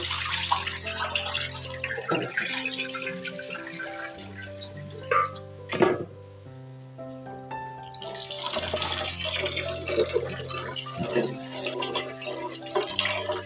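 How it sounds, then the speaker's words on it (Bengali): Soaked rice being washed by hand in water, with sloshing, swishing and splashing of grains in a pot, close and moderately loud, while background music plays and a voice is heard at times. "এখন চালগুলো ভালো করে ধুয়ে নিচ্ছি"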